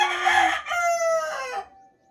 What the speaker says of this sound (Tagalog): Tumutulaok pa nga.